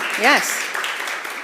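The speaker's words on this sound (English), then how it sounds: "Yeah, more applause. I like it. The more the better." Applause from an audience at a spring academic symposium fills the whole stretch as a steady, dense patter, with a single voice speaking briefly over it near the start.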